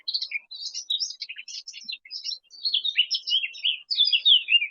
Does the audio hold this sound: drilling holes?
no